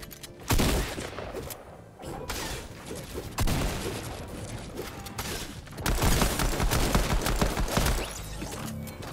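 Rapid bursts of gunfire in Fortnite come in heavy, loud volleys with thumps and crashes, separated by brief lulls before fresh barrages start up.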